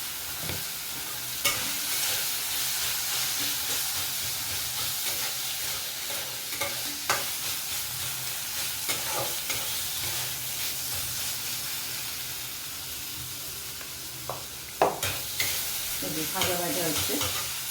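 Banana flower curry with lentil dumplings, turmeric and coriander-cumin powder frying in a pan, a steady loud sizzle with repeated scraping stirs and occasional clinks throughout.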